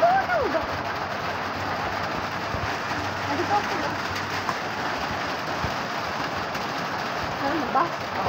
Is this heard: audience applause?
no